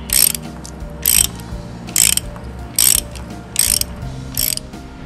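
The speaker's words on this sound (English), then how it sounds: "After the resin is set, the bolt is to be removed." A ratchet wrench backs a bolt out of a set resin anchor in five short, sharp clicking bursts at a steady rhythm, close and loud.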